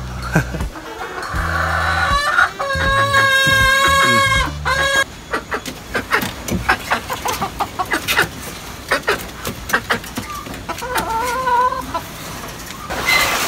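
Sweater gamefowl breeder hens cluck loudly and close by, with a long drawn-out cackling call early on, then a run of short clucks; no talking.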